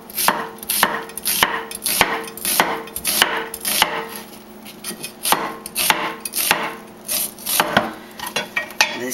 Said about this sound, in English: Now we're going to cut the onion and slice the onion, get the skin off, and then slide the onion real thin.